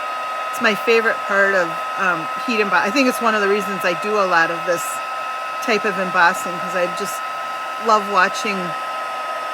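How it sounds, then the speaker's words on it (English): A heat gun used for heat embossing blows a steady, loud whooshing roar throughout, continuous under a voice talking over it. "And then I'm going to turn my heat gun on,"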